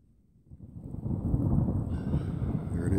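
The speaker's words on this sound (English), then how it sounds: "got some thunder and lightning coming around here now." A deep, rolling rumble of thunder builds after a quiet start and keeps growling loudly, with wind-like noise blended in.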